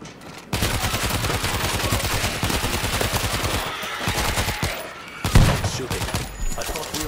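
Sustained gunfire in the zombie shooter World War Z: Aftermath, with rapid automatic bursts hammering steadily for several seconds before a brief pause and a final heavy blast, loud and close.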